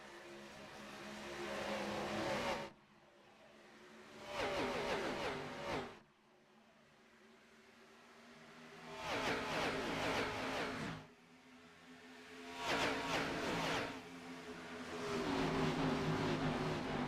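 Race cars in a sim racing game accelerate away at the green flag in Las Vegas, engine roars surging and fading in repeated loud waves with quieter gaps between passes.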